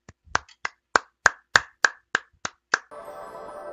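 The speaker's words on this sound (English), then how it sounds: "A round of applause, everyone." Nine or ten sharp, evenly spaced hand claps ring out close and loud, like a slow deliberate clap, followed by a burst of dense, crackling clapping noise at the end.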